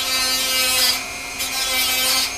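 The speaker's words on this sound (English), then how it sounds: "it cut through the wire fairly easily" A rotary power tool spinning at about 15,000 RPM cuts through wire while building a soil sifter, giving a loud, close, high-pitched grinding whine that swells and eases twice as it bites into the metal.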